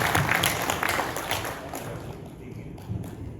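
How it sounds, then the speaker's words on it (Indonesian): Audience applause for Pak Asmoro at a national conference event, a dense wash of clapping that fades gradually over a few seconds. "Mari kita tepuk tangan dulu buat Pak Asmoro."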